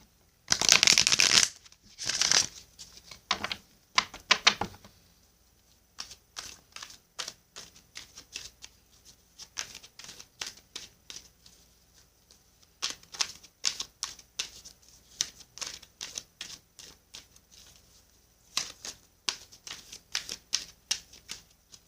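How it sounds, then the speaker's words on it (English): Sage Goddess Gemstone Oracle card deck being shuffled by hand in bursts of rapid, crisp card slaps and riffles with short pauses between, close and fairly quiet, no voices. "I'm going to shuffle for you the Sage Goddess Gemstone Oracle deck"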